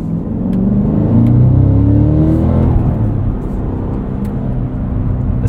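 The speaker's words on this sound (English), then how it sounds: "This V8 just sounds fantastic. No supercharger whine." A 2024 Cadillac CT5-V Blackwing's V8 engine revs hard while driving, a loud, close, sustained low growl that rises and falls through the gears without supercharger whine.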